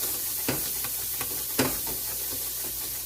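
Oil sizzles steadily in a pan, with a few sharp crackles and pops breaking through the continuous frying hiss; no voices.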